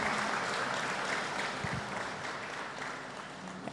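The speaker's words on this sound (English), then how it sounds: "Another round of applause for Dr." Sustained applause from an audience at a public lecture, honouring Dr. Mangudya, with steady dense clapping throughout that eases slightly toward the end.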